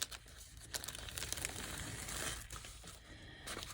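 Backing is peeled off a sheet while a hinged folder is made, a close, soft crinkling and tearing rustle that runs on for several seconds without speech.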